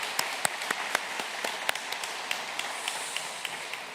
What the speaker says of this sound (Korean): 우리 한번 다시 한번 박수 한번 하시면 어떨까 싶습니다.